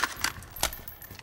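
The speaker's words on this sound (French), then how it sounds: "Change de chargeur." Magazine change during a reload in Call of Duty: Modern Warfare, a few quick metallic clicks and rattles of the weapon handling, close and fairly quiet.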